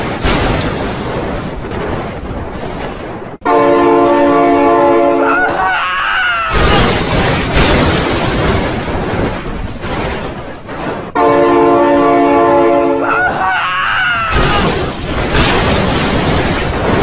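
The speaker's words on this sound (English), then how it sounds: "Oh my God, train!" A video game train roars past in a loud, continuous rumble, with two long, blaring horn blasts, the second repeating the first, close and dominant throughout.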